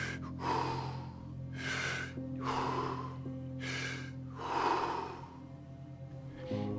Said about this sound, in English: So I began to do my breathing.